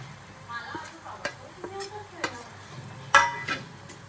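Grated coconut and jaggery cook in a pan over a low flame, giving a soft, intermittent sizzle with occasional scrapes and taps of a stirring spoon, close and fairly quiet.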